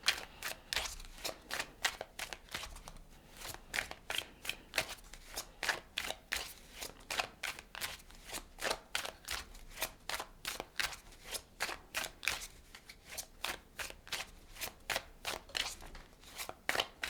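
Tarot cards being shuffled and pulled from the deck, a steady run of crisp riffling snaps heard close and alone.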